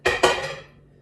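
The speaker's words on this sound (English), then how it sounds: "Take the lid off." A crockpot lid comes off with two quick ceramic clinks close by, the second ringing briefly before fading out, with no talk.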